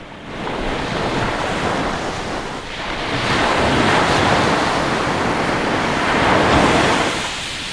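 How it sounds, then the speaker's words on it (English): Ocean waves break on the shore in a steady, loud roar that swells and ebbs, with gusts of wind buffeting the microphone throughout and no voices. "We just enjoy listening to the waves"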